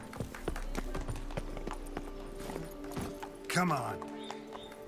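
Horse hooves clip-clop at a quick gallop in The Witcher 3, a steady rhythmic beat under game sounds, with a voice speaking briefly and a horse snort near the end.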